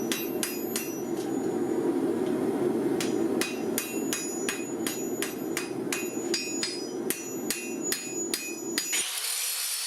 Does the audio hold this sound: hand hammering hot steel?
yes